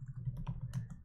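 Quick, quiet keystrokes on a computer keyboard while entering code, a short run of light clicks with a low hum underneath.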